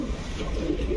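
Pigeons coo steadily inside a shop selling deep-coloured breeds, the low murmuring close and continuous over a busy background hum.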